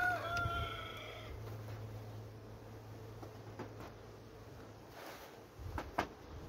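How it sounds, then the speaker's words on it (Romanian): Roosters crow near a beehive apiary, with one clear nearby crow at the start and fainter crowing and clucking further off, over quiet outdoor background and a few soft clicks. "Prin tot zgomotul ăsta de cocoși"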